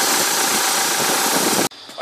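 Mitsubishi Triton engine running loudly with manifold cleaner fed into the intake, a rough, busy roar that holds steady, then drops away sharply near the end.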